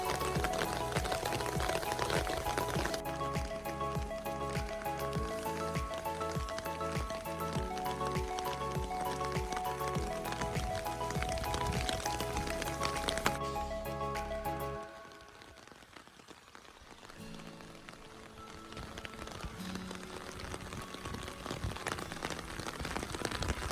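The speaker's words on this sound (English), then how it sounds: "finally we are able to show you rain in Dubai" Rain falling in Fujairah, UAE, heard during a drive: a dense, steady patter of drops on a surface, mixed with music, dipping briefly before picking back up.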